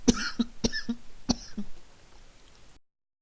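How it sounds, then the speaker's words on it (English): A series of sharp, close coughs, about five in irregular succession, fading into quiet. "I'm sorry, I had a cough"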